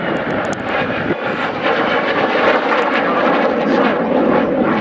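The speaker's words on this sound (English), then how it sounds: "here we see one demonstrated in a twin-jet trainer" A Dassault Alpha Jet twin-jet trainer of the French Air Force displaying at an airshow, a loud sustained engine roar filling the whole stretch without talk.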